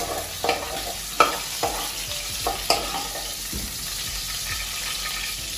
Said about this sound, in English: Everything is frying up.